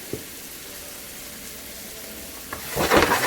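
Tomatoes, lightly salted for a lobster curry, fry in a pan over high flame. A steady soft sizzle runs throughout, then swells into a louder burst of frying and stirring near the end, with no talking.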